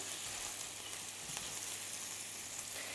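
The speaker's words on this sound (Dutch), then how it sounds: "je wil deze burgers dus echt niet te lang bakken, omdat ze dus maar zo dun zijn" Thin homemade Big Mac burger patties fry in a pan with a steady, even sizzle that holds at a close, moderate level throughout, with no talking.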